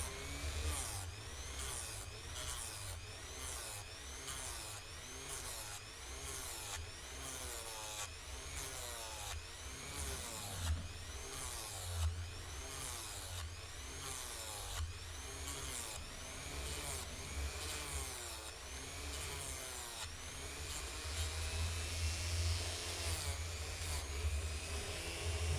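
Rotary multi-tool smoothing out a cut line, giving a continuous high-pitched whine with rhythmic grinding passes against the material, steady and close throughout.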